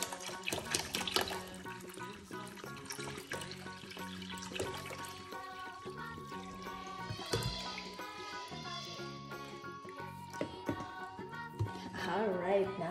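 Water being poured into a bucket that is already full of water, a continuous splashing, gurgling pour heard fairly close throughout.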